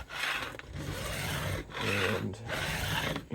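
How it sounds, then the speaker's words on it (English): Steady rasping of sandpaper rubbed back and forth over a maple guitar neck in a few long strokes with brief pauses, close up. "do a little sanding anyway."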